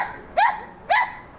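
A friendly dog outside a house for sale barks twice in quick succession, two short, clear, close barks about half a second apart, with no talk over them.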